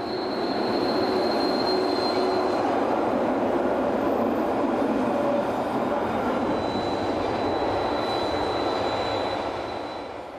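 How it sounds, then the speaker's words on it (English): Freight train number 624 labouring up the narrow Elbola Pass, a steady loud rumble of wagons and wheels with intermittent high wheel squeal running throughout, fading slightly at the end. "The climb up the narrow Elbola Pass is seen here as number 624 hurries its freight south."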